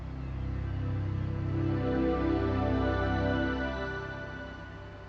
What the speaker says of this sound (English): That is indeed Windows 98 you heard.